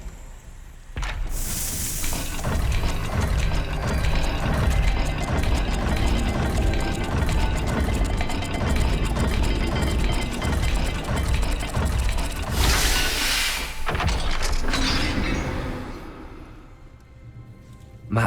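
Heavy stone mechanism of a Salazar Slytherin puzzle door in Hogwarts Legacy grinds and ratchets open in one long, loud, continuous rumble with clicking gears, ending in a final thud.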